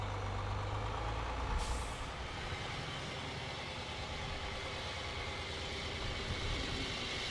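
Concrete pump truck from Capital on a construction site, its diesel engine droning loud and steady, with a brief hiss of air near the start.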